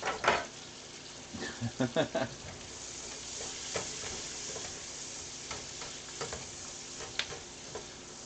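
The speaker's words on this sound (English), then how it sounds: "I let the onions fry for a little bit" Onions sizzle steadily in a frying pan during a home steak dinner, with a few louder scraping stir strokes near the start and scattered clicks of the utensil against the pan.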